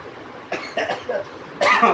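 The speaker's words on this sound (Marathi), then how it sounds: "खोकला आला" Four short, close coughs come in quick succession during a casual Marathi live chat, the last one louder and longer, with no talk over them.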